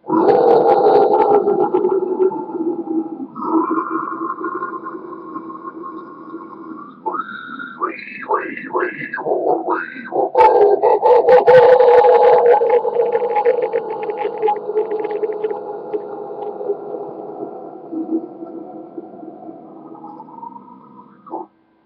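A harsh, guttural inhaled vocal growl, droning and gurgly, broken by a few short squealing bursts partway through, close and fairly loud.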